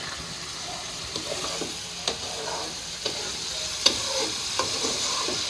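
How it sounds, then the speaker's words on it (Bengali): Fish frying in hot oil in a home kitchen, with a steady crackling sizzle and scattered sharp pops and spits of splattering oil, close and moderately loud with no talk. "এত সিটা ছিটছে দেখো কি পরিমাণ তেল ছিটছে"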